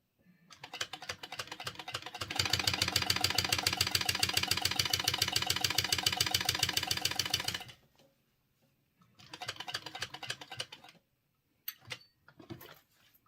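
Sewing machine topstitching a pocket, fast rhythmic needle clatter that ramps up into a long steady run, stops, then resumes in a shorter burst followed by a few brief stitches, close and alone.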